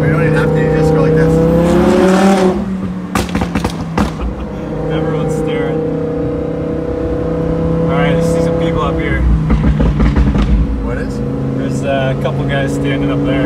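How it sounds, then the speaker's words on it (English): A Lamborghini engine revved in neutral while parked in a small town, with loud rising and falling revs over a steady idle drone, and people talking over it throughout. "you gotta throw it in neutral and rev it up"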